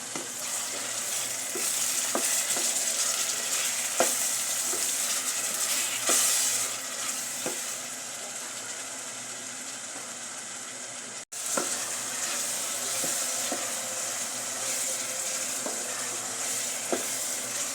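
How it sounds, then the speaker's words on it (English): Butter beans frying with green capsicum and tomatoes are stirred in a pan. A steady sizzle runs throughout, broken by repeated scraping strokes of a spoon, with one short pause partway through. "Let's stir this"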